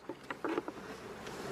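Honeybees buzzing at a hive during autumn wintering preparations, heard as a few short, close buzzing bursts over a faint steady hum, with no voices.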